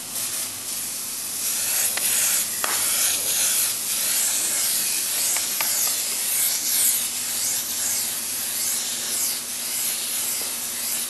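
Airbrush spraying paint in broad strokes: a continuous soft hiss of air and paint mist, steady and close, with faint clicks and brief fluctuations throughout and no talking.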